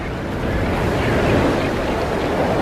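Ocean waves surging as rockhopper penguins dive through them, a loud, continuous roaring wash of surf with a windy rush and no clear break.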